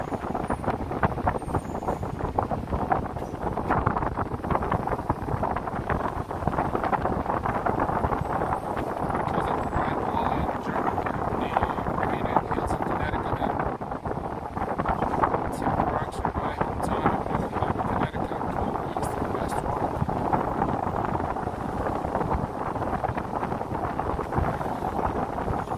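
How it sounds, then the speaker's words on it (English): Wind blows across a highway bridge on a hot day, a continuous low rumbling buffet against the microphone with gusty swells, mixed with distant traffic and occasional talking. "you hear the wind"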